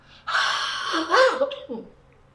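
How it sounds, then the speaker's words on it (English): A forceful open-mouthed huff breath for airway clearance, one long exhale followed by a shorter trailing breath, close and alone. "Okay, middle breath, huff."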